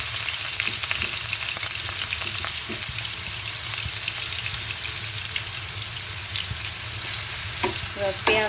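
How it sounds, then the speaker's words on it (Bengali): Onions frying in oil in a frying pan with cumin seeds, giving a steady close sizzle with occasional scraping stirs, no talk over it. "এবার পেঁয়াজটা ভালো করে লাল লাল করে ভেজে নিতে হবে"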